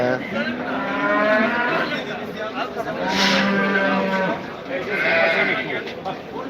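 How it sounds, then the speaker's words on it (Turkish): A cow at a livestock market in Bolu lets out several loud, close moos amid bleating sheep and a busy crowd of people talking. "Yedi bin liraymış bu inek."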